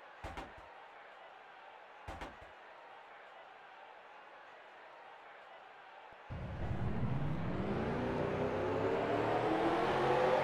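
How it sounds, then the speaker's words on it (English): Race car engines at Darlington fire up after a couple of sharp door-like thumps, then build into a loud, rising rev that climbs steadily in pitch and swells in volume. "Start your engines!"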